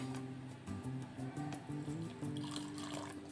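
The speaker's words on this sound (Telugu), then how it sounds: "దీంట్లో కొద్దిగా మనం వాటర్ పోసుకుందామండి" Water trickles into thick dosa batter for instant bun dosa, giving a quiet, close liquid pour with soft splashing under a faint tonal background.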